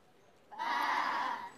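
A single drawn-out sheep's baa, imitated by a human voice while reading a farmyard picture book aloud, rising suddenly and holding steady for about a second before cutting off.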